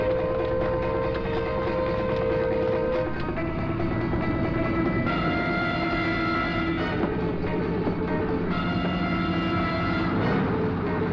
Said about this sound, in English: One Hercules landing now.